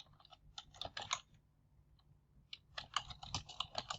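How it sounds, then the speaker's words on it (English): Fast bursts of keyboard typing entering an answer on a computer, two clusters of quick key clicks separated by a short quiet pause, close and fairly soft. "you can type in your answer"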